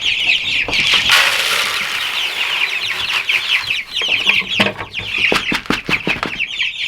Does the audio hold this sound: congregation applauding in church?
no